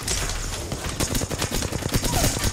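Rapid bursts of video game gunfire crackle in quick succession, loud and dense, with a few sharper blasts from a Peacekeeper shotgun punching through the volley.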